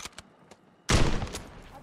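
Gunfire in Call of Duty on Rebirth Island: a couple of faint distant pops, then a loud close burst of shots with a short ringing tail.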